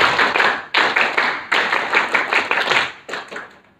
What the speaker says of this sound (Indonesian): Untuk Pak Junaidi, tepuk pramuka